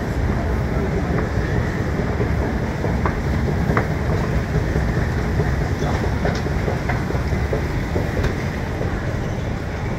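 Train sounds at Stockholm Central railway station: a steady, loud rumble of rolling stock with faint clickety-clack and metallic squeaks, set in a busy station ambience with murmuring voices in the background.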